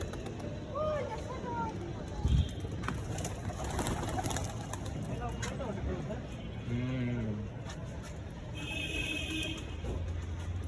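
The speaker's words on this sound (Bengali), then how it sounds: "এই ছিল আমার পায়রা" Domestic pigeons kept in lofts coo and warble nearby, with soft repeated calls and rustling heard under steady background noise and nearby voices.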